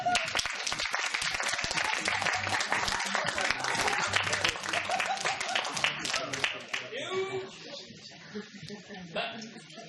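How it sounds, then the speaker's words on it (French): Audience applause after a children's stage show, thick clapping from a crowd for about six seconds, then fading under a voice and other stage sounds. "Je vous remercie de les applaudir."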